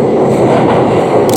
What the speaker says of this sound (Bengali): ওই যে ট্রেনটা আসতেছে, দেখেন নিউ ইয়র্কের ট্রেন কিন্তু আমাদের ভ্যাঙ্কুভারে যেরকম মনুষ্যবিহীন ট্রেন মানে প্রোগ্রাম করা থাকে সেরকম না